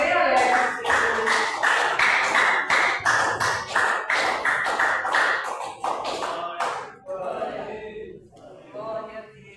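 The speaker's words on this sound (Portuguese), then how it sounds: "As palmas bem alegres, Senhor." A church congregation claps rhythmically and joyfully during a worship service, loud steady beats for about seven seconds before thinning into scattered claps, with voices under it.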